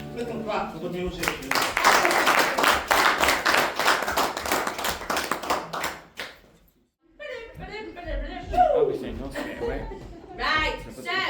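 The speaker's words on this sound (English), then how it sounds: "Little clap for the music." A church congregation claps for the worship music in a dense, lively burst of applause lasting several seconds, then it stops, followed by a short pause and someone talking with light laughter.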